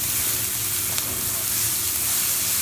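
Onions frying with kosher salt in a pan give a steady, dense sizzle and hiss that runs unbroken and fairly loud for a couple of seconds, with no voices over it.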